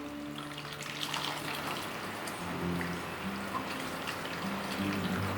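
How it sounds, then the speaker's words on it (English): Assam broth pouring over a plated fish, a steady, close liquid splash that runs continuously and stays fairly loud throughout, with a low background hum. "So I'm going to pour the Assam broth on top."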